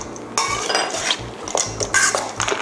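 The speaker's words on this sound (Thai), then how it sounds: "คนอีกสักเล็กน้อยนะคะ" A Thai fruit papaya salad with roasted peanuts and dried shrimp is stirred and tossed, with close, loud clinks and scrapes of a utensil against a bowl in an uneven rhythm.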